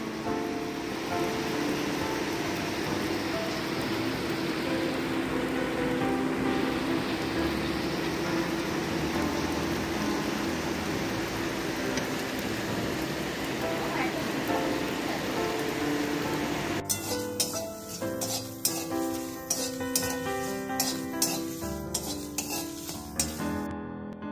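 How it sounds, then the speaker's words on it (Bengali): Heavy rain pours down in a dense, unbroken roar for most of the stretch, loud and close, before giving way abruptly to a different, more patterned sound near the end. "ভালোই বৃষ্টিটা এসেছে।"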